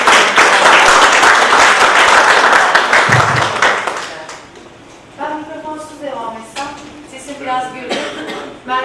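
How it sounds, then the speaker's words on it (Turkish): Audience at a hospital seminar applauding as a speaker is welcomed on stage, a dense burst of clapping that fades after about four seconds, followed by someone talking. "Kendisini sahnemize davet ediyoruz büyük alkışlarla."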